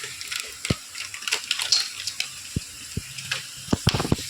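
Food frying in hot oil in a home kitchen, a close, steady crackling sizzle broken by sharp pops, with no talk over it.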